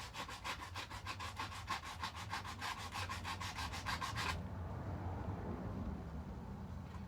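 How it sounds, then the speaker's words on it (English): Sandpaper rubbing by hand around a freshly cut hole in a Telecaster-style guitar body, a steady run of quick back-and-forth strokes for about four seconds, then stopping as faint room noise continues. "I can clean that up really quickly with a bit of sandpaper."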